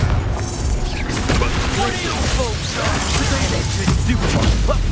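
Repeated blasting spell bursts in the Hogwarts Legacy game, loud explosive booms and whooshing crackles layered over busy combat noise and a voice talking throughout.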